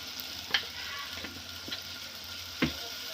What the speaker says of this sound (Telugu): మంచిగా కొద్దిగా ఫ్రై చేయాలండి